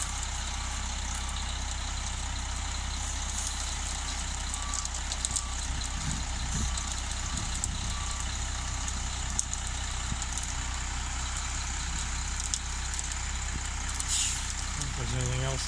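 Concrete trucks idle and maneuver at a farm grain bin pour, a steady diesel rumble with intermittent reversing beeps and air-brake hisses, while people talk nearby.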